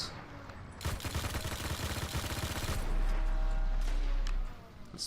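Turret gunfire in the video game Destiny: a rapid, fairly faint burst of repeated shots rattles for a few seconds, then a heavier low rumble swells and fades.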